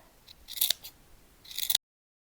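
Close scissors snipping notches into the seam allowance of a fabric summer dress, a few quick crisp cuts in two short clusters, then silence.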